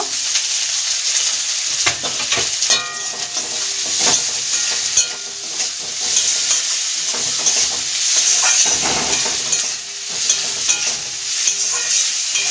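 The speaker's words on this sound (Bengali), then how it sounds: "আমি একটা মাঝারি সাইজের পেঁয়াজ কুচিয়ে দিয়েছি সব দিয়ে এগুলো ভেজে নেব" Chopped medium onion fries in a pan, a loud continuous sizzle with scraping stirring strokes throughout and no voices.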